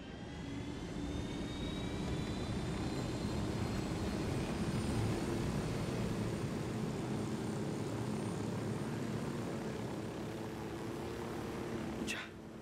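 A helicopter flies in the video game Ghost Recon Wildlands, its steady, loud rotor and engine roar droning continuously with no voices, ending in a brief high click.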